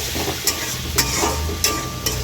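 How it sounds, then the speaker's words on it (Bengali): Tomatoes with spices sautéing in a pan give a steady close sizzle, broken by a few sharp scrapes of a spoon stirring at regular intervals, with no talking. "ভালো মশলা দিয়ে দাও, কষি আরো"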